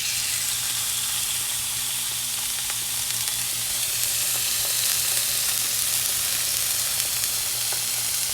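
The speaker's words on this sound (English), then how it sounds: "I believe this griddle is good and hot. Let's go ahead and drop this first picanha fillet." Dry-brined picanha steak fillet sizzling on a hot griddle, a loud, steady frying hiss with crackle that runs unbroken, close up, with a low hum beneath.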